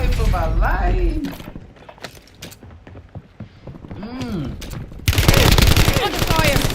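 Gunfire in a shooter video game, dense bursts opening and closing the stretch with quieter scattered shots between, mixed with shouted voices throughout.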